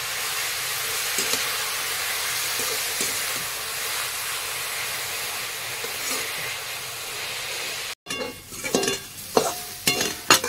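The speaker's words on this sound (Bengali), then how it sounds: "দিয়ে একটু নাড়িয়ে চালিয়ে দেবো।" Greens frying in a pan with turmeric and salt, a steady soft sizzle and hiss with faint stirring scrapes, then a brief cut and sharper, louder scraping and clattering of a utensil near the end.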